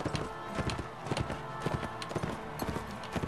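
Horse hooves clip-clop quickly and steadily in Mount & Blade Warband, a fast galloping rhythm with busy battle noise behind it and no clear talk.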